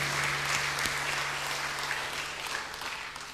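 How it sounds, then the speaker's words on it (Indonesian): A church congregation claps steadily after the Pentecost prayer at a Sunday service, a broad wash of many hands at moderate distance that slowly tapers, with a faint low hum underneath. "Kita berikan tepuk tangan."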